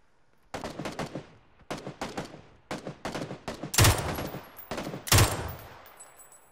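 Bursts of automatic gunfire in PUBG, several rapid volleys separated by short gaps, loud and close, with two heavier, sharper bursts toward the end.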